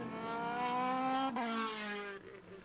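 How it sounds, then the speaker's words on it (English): A single-seater race car at Mondello in the Formula BOSS Ireland Championship spins its wheels. A loud engine note rises and wavers, then drops off toward the end, heard alone with no talking. "wheel spin there for Tony Greenan"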